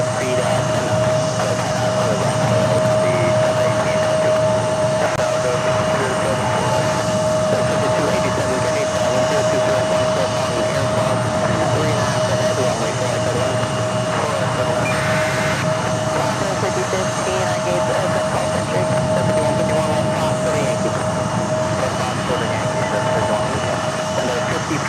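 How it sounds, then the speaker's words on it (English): A Delta Airlines Boeing 767-300ER takes off at JFK, a continuous loud jet roar with a steady whining tone, holding level throughout, with talk faintly underneath. "Takeoff is Delta Airlines Flight 218 heading to Copenhagen"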